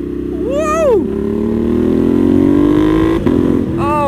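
Ducati Monster 1200 motorcycle with an SC Project full titanium exhaust, a loud close engine drone rising steadily in pitch as it accelerates, with brief rev swells at the start and end.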